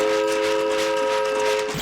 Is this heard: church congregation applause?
no